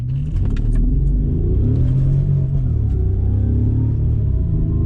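A Bentley Continental GT accelerates at full throttle during a passenger ride, its deep engine growl rising steadily in pitch, loud and close from the cabin, with no talk.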